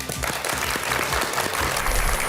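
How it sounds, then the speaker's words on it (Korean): An audience at a televised talk applauding to welcome a speaker onstage, a thick, continuous wash of many hands clapping at steady loudness throughout. "큰 박수로 맞아주세요."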